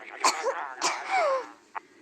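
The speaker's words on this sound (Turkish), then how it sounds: "Kedi öksürdü." A few short, raspy coughs from a cat, close up, separated by brief pauses with a faint wheezy tone between them.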